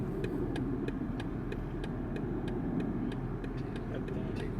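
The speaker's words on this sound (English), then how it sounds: "Now what's gonna happen is it's gonna give me, I'm gonna hear an audible tone." A BMW gives its audible warning tone, a string of short evenly spaced beeps repeating about three times a second over a low steady car hum.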